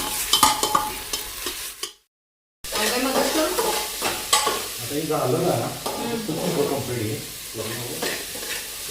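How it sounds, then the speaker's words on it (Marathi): Potato, onion and tomato are stirred and sautéed in a pressure cooker over a cumin-mustard seed and curry leaf tempering, giving a continuous close sizzle with repeated scraping stirs and a brief silent gap early on. "हे चांगलं परतवून घ्यायला लागले कुकरमध्ये"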